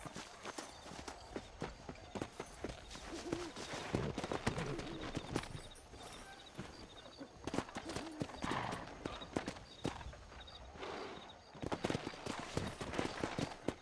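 Horse hooves clip-clop steadily in a night ride in the western video game Red Dead Redemption, a fairly loud, continuous rhythmic patter of hoofbeats with rustling game ambience throughout.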